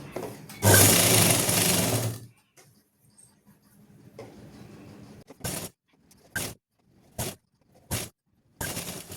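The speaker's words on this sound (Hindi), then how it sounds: "यहाँ पे आपको पॉइंट की सिलाई लगानी है।" Sewing machine stitching a suit, first in one long close burst of rapid needle clatter, then in several short separate bursts with quiet gaps.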